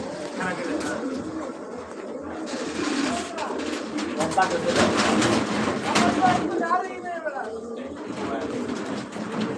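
Pet pigeons, a male and a female, coo in soft repeated throaty calls close by, running under steady talk throughout.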